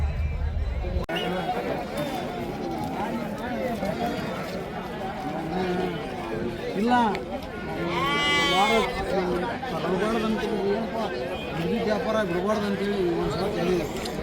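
Goats bleat repeatedly amid a busy crowd at a weekly morning goat market in Haveri, Karnataka, their wavering cries rising over constant chatter and people talking nearby.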